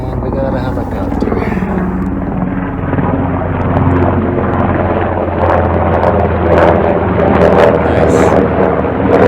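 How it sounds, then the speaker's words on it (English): Helicopter rotor thumping loudly and steadily, growing slightly louder, beside a 1970s-era VW Turbo Beetle awaiting first repairs; a continuous roar with no talk. "And we got a helicopter."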